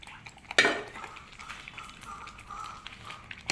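Potatoes tip into a pan of aloo palak masala with a sharp, close clatter of utensil against metal, followed by softer stirring scrapes and a light sizzle.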